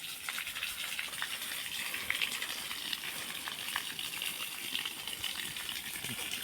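Water sprays and hisses steadily from a broken irrigation pipe in a farm field, a continuous rushing gush with occasional spattering, heard alone without voices.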